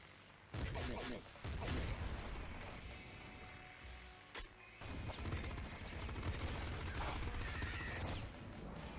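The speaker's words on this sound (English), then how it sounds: "Love the pop gun, man." Rapid gunfire from the pop gun in the video game Nuclear Throne, with bursts of repeated shots over dense game music and effects, a short gap and a sharp hit in the middle.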